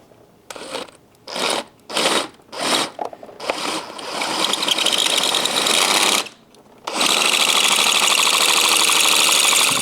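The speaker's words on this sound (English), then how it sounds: "So let's start drilling." Drill biting into a stuck Torx bit during a 2008 VW GTI cam chain tensioner and high-pressure fuel pump job, running in several short grinding bursts, then a long steady run, a brief stop, and a loud continuous resumption.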